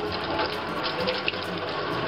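Cold water runs steadily from a kitchen tap in one continuous rush, close and fairly loud, with a brief clink near the middle.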